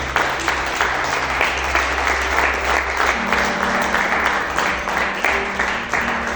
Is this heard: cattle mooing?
no